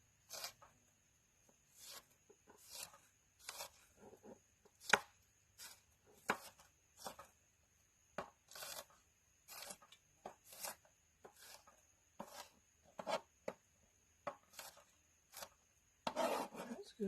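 A dull knife scrapes through an avocado at a boondocking campfire in roughly twenty short, quiet strokes, irregularly spaced with brief silences between.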